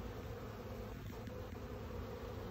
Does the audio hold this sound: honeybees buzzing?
yes